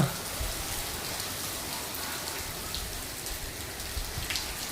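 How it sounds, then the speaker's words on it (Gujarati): Rain falls steadily in a village, a dense, even hiss of drops striking surfaces nearby, continuous and moderately loud with no voices. "હા વરસાદ આવી ગયો અમારા ગામમાં"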